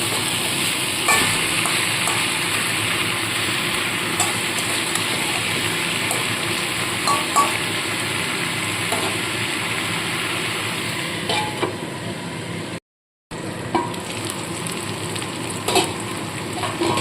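Cauliflower stems and mixed vegetables cook in a covered pan, giving a steady, even sizzle and hiss that continues throughout, broken only by one brief silence near the end.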